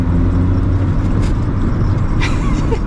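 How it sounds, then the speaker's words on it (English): A 1999 Toyota Corolla driving, a steady close engine drone and road rumble filling the cabin, with a faint squeak near the end and no talking. "am driving a Corolla"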